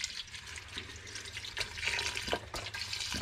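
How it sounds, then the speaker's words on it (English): Store-bought fish stock pours into a pot for seafood chowder, a steady close splashing gurgle of liquid running throughout with a few brief clinks near the end. "so in goes the old fish stock"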